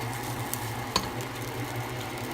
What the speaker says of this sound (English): So you do want to let it fry.